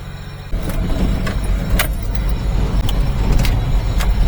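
A mini truck drives through a stream crossing: a steady low engine rumble with splashing and intermittent sharp knocks and clatters, close and loud throughout, no talk.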